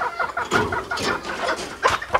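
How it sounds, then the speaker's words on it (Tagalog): A group of small, tame ornamental chickens clucks close by, their short, repeated calls overlapping in an uneven, busy rhythm. "maliliit na maliliit na manok"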